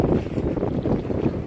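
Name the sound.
strong wind around a toy bait boat on water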